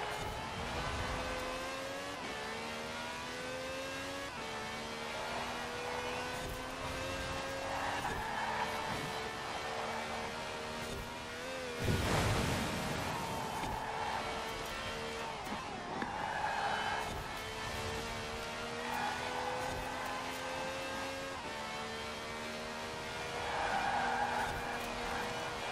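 A Maserati MC12 races in Forza Horizon 4, its engine droning steadily and climbing through gear shifts, with tire skids and passing cars over roughly 26 seconds and a louder burst near the middle.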